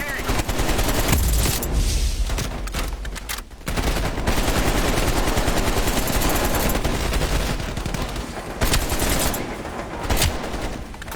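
Sustained automatic gunfire from Black Ops Cold War: loud, rapid rattling volleys that run almost continuously with a few brief dips, dense and close throughout.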